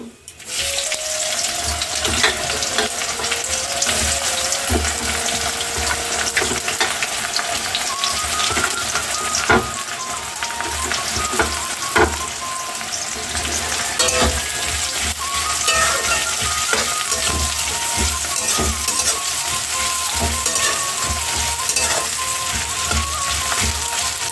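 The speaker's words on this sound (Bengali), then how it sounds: "পেঁয়াজটা নাড়তে থাকি লাল লাল করে ভেজে নেব" Chopped onions with bay leaf frying in oil and being stirred until browned in a village kitchen, a dense continuous hiss and crackle with frequent scrapes and clinks of a spatula against the pan.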